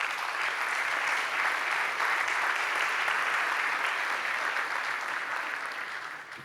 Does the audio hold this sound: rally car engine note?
no